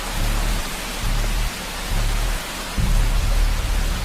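Heavy rain pours steadily in a video game, a dense continuous hiss with low rumbling swells that rise and fall in loudness throughout, no voices over it.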